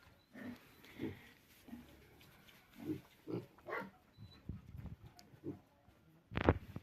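Vietnamese pigs crunch and chew their feed close by, irregular soft crunching bites and low grunts spaced across several seconds, with a sharper burst near the end.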